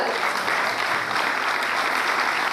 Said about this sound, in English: So you get only B grade for this clapping.